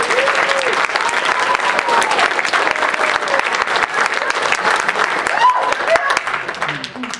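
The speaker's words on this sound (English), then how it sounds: "Give her a round of applause." An audience at a convention Q&A panel gives a sustained round of applause, loud and even throughout, with faint voices and a few whoops mixed in under the clapping.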